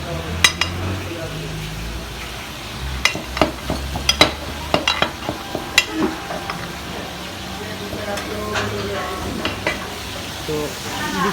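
Hilsa fish bharta mixed and mashed in a pan, with scattered clinks and scrapes of a utensil against metal at uneven intervals, close and moderately loud over a steady low background hum.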